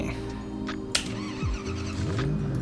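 A car engine revs up and down in the Roblox game Southwest Florida, moderately loud with pitch sweeps, over a steady background hum and a brief click.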